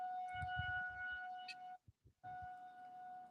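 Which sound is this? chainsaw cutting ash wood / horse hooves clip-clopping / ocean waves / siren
siren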